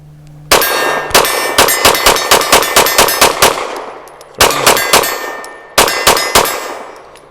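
Rapid pistol fire from a Rost Martin RM1C, loud close shots in quick bursts of about eight, then two and two more, with no talking.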